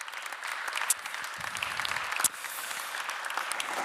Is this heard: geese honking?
no